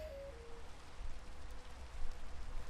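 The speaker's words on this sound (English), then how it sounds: "Okay, it's still raining." Steady rain falls outdoors in New Zealand, a dense, even hiss of drops that holds moderate loudness throughout with no voices over it.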